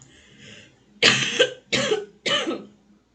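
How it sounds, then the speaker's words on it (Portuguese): Three sharp coughs in a row, close and loud, preceded by a soft breathy throat sound, then quiet. "Deixa eu tossir de novo."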